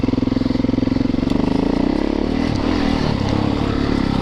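Yamaha YZ450FX dirt bike engine running close by, a loud, steady rapid thumping idle that smooths slightly into a rougher, busier drone toward the end.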